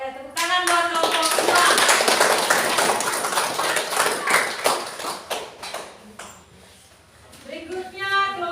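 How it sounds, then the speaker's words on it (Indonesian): Classroom group applauding a presenting student group, sustained brisk clapping for about six seconds that thins to a few claps, with voices talking near the end. "Oke, tepuk tangan buat kelompok"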